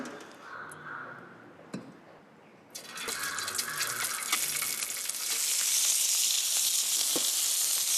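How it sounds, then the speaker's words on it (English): Prawns sizzle in oil on a hot grill, a quiet hiss at first that swells into a loud, steady frying crackle with a few sharp pops and clinks, with no talk over it. "now for the grilling of the prawns"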